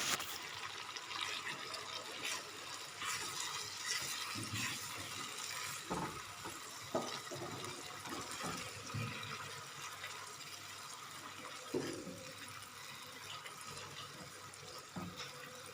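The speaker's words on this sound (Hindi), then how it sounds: "अब इसमें ना हाफ़ कप पानी शामिल कर रहे हैं" Half a cup of water pours into sizzling, frying spices for shalgam chicken, giving a loud hiss and bubbling that settles into a steady simmer with occasional clinks of a utensil.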